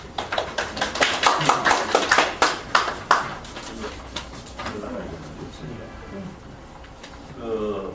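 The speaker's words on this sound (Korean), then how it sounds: "박수 부탁드립니다" Brief applause from a small audience at a press conference, a few seconds of quick, sharp claps that fade out, followed by a voice speaking.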